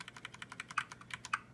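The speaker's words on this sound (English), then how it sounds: "with that sound of me hitting the keyboard, should be where this video file starts" Fingers typing on a computer keyboard, a quick run of about a dozen crisp, close key strikes in an irregular rhythm, heard alone.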